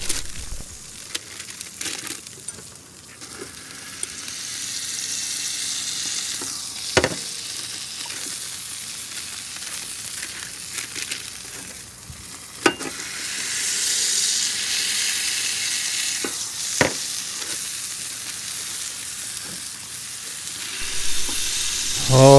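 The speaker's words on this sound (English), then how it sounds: "Oh, let's listen in on that sizzle." Smash burgers sizzling loudly on a hot custom flattop fitted to a kettle grill, a steady crackling hiss with occasional sharp scraping and clanking sounds, no talking.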